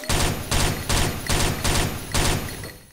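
Rapid bursts of automatic gunfire from the online shooter game XSHOT in Ghost Mode, six evenly spaced loud volleys close together over a few seconds, with no voices.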